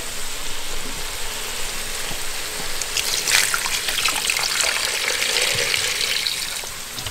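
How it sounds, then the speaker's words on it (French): Water runs into a hot cooking pot, a continuous hissing, bubbling trickle with sizzling from the pan that stays fairly loud and even throughout. "maintenant ce que je vais faire, c'est que je vais ajouter de l'eau."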